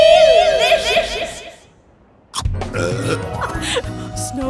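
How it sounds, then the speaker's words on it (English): A cartoon snow-eating scene on a mountaintop, where a creature lets out a snow burp amid playful voices, squeaks and laughter, followed by a louder busy stretch of chatter and music after a brief quiet gap. "Snow burps."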